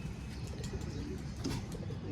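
Pigeons coo softly in an outdoor loft on a very windy day, low gentle cooing calls over a faint breezy background.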